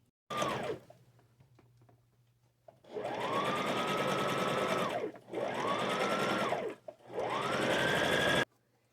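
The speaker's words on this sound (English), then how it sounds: "I'm just going to run it along this edge right here. Just put a top stitch on it." A sewing machine runs a top stitch along the edge of a man's shirt being altered, with three sustained whirring bursts at a steady buzzing rhythm, close and loud, separated by brief pauses.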